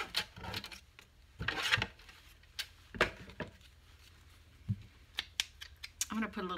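Scissors snipping paper in short, irregular crisp cuts close up, with brief pauses between bursts and faint rustling.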